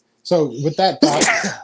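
A single abrupt sneeze bursts out near the end of a man's sentence during an Eagles versus 49ers pregame talk show, overlapping his speech rather than standing alone.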